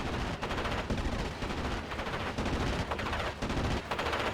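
Gunfire from an ME 109 G6 R6 fighter in Steel Division Normandy 44 rattles in loud, dense, rapid bursts that run almost without pause through the whole stretch.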